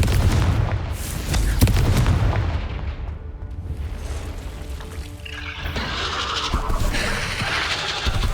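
A Confringo explosive spell blasts in Hogwarts Legacy with loud, rumbling booms and sharp cracks, followed by a hissing, crackling burst as the blast settles, all at close range.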